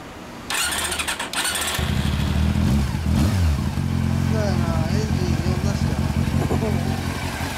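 A 1997 Honda CB400 Super Four Version S (NC31) motorcycle engine starts up with a sharp burst, then revs and rumbles loudly close by through an LCI Parts exhaust, settling into a throaty idle with brief throttle blips.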